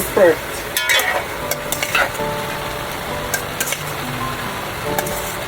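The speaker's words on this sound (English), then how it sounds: "I'm adding the turkey. I'm gonna toss for 1 minute, and then I'm gonna add the pasta" Smoked turkey and lo mein pasta tossed and stirred in a hot pan, with steady sizzling and frying under repeated scraping, clattering stirs that come in quick bursts at close range.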